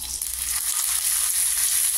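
Raisins and cashew nuts frying together in a pan for payasam, giving a steady bright sizzle with faint stirring, continuous and close, with no voices.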